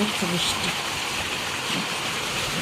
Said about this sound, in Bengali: বাইরের আবহাওয়াটা দেখেন, এত বৃষ্টি হচ্ছে।